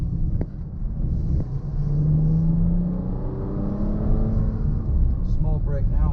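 A Bentley Bentayga Speed pulls hard under acceleration, its engine note climbing steadily through the middle of the run over a constant road and wind rumble, while a voice talks throughout.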